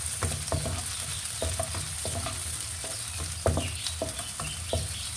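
Onion fries in a pan while being stirred, a soft continuous sizzle broken by repeated close scraping and clicking strokes of the utensil.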